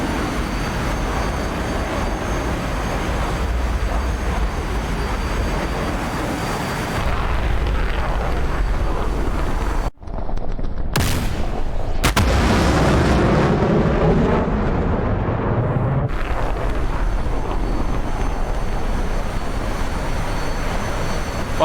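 In a DCS combat flight simulator, an F-35A fires a salvo of twelve MAKO hypersonic missiles: a loud, continuous roaring rumble, briefly cut off, then surging again with rising whooshes before settling back into a steady roar.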